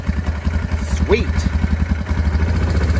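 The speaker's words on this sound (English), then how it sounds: "I've got my four-wheeler running." A four-wheeler engine running steadily after a jump start from a Foxpeed portable jump starter, a close, even idle with rhythmic low pulses throughout.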